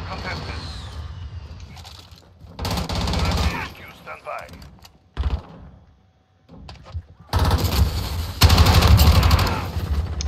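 Gunfire in Call of Duty Modern Warfare in a hardcore Headquarters match, with bursts of shots and mechanical clatter coming and going between pauses, partly under a voice talking.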